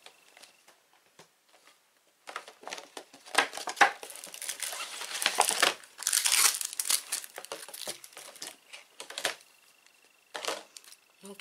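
A crinkly plastic craft supply package is torn and opened up close, with dense crackling and rustling in bursts that rise to a busy peak midway and then trail off into scattered crinkles.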